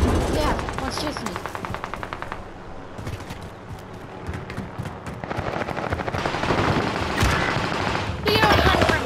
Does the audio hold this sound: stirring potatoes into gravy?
no